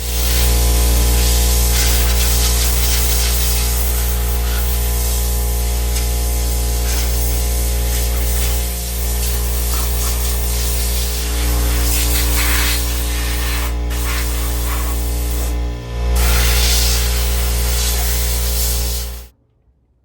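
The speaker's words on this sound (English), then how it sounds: "I'm gonna take the air compressor, I'm gonna blow off as much dust as I can" Loud, continuous hiss of an air compressor blasting dust off pallet wood for about twenty seconds with a steady hum beneath, briefly dipping before cutting off abruptly.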